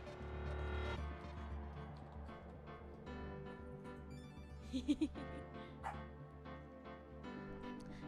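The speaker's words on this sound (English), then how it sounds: "If you can hear angry barking" A dog barks and yips in a few sharp bursts near the middle, over steady background music and room noise.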